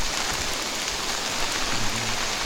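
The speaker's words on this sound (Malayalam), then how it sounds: "ആ കേട്ട് മഴയത്ത് കുവേരി തൂക്കുപാലത്തിൽ സംഭവം സെറ്റ് കേട്ടോ" Steady rain pours down at the Kuveri suspension bridge, a dense, even hiss of drops on surfaces that fills the whole stretch without a break, loud and close, with no voices.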